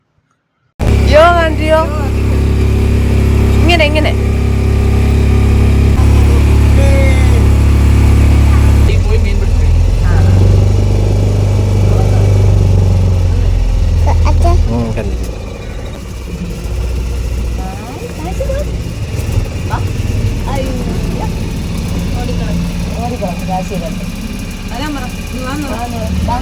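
A loud, steady motorboat engine drone runs throughout on a boat trip at Poovar Island, with a person speaking over it and the engine tone dropping partway.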